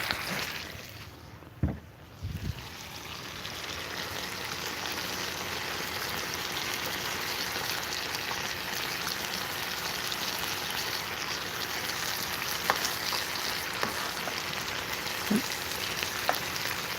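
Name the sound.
burgers frying on a biogas burner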